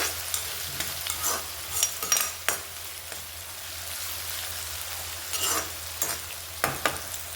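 Food fries in a pan on a home stove and is stirred now and then. A steady sizzle runs underneath, broken by intermittent scraping strokes of the stirring utensil, with no talk.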